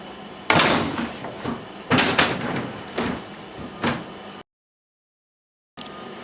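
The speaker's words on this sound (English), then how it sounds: "Taking the dust cover off, opening up the sides, slam that, finger hole, and then putting the dust cover back on again." Plastic EuroBin 1210 storage crate having its dust cover lifted off and its sides opened and slammed, a run of sharp hollow plastic knocks and clatters close by, followed by a sudden cut to silence.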